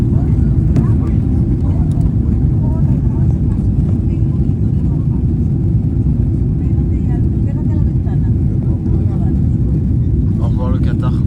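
Airliner leaving Qatar, its engines giving a loud, steady low drone that fills the whole stretch without a break, with faint voices now and then underneath.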